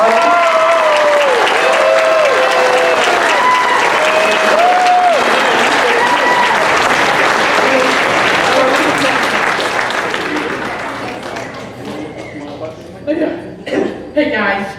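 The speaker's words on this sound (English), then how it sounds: "So let's give one big round of applause for Lorenzo." Loud, sustained audience applause with cheering at a recognition event, a dense wash of clapping that thins out toward the end as a voice begins to speak.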